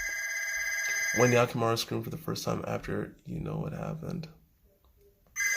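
A telephone rings with steady repeated tones during the opening second, then gives way to continuous talking; the ring is fairly loud and sits under and ahead of the speech.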